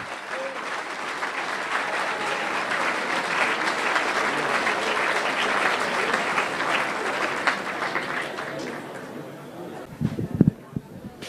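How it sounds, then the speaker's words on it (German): Audience applause for a speaker at a science slam in Kreuzberg, a full, sustained round of clapping from a crowd that holds steady for several seconds, then thins and fades as a voice starts. "Großer Applaus für"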